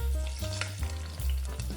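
Chopped onions frying in a pan, with loud, close sizzling and a few quick stirring scrapes over a short stretch and no speech.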